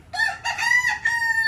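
A rooster crows once, loud and nearby, a drawn-out rising and falling call with a few stuttering breaks.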